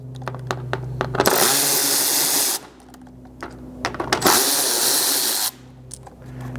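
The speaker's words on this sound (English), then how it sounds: "That'll expose 3 more screws right here that we'll remove." Two loud, sustained bursts from a power tool backing screws out of a Lexus GX 550 fender liner, close by, with clicks and handling noise in the gaps and a brief spoken phrase near the start.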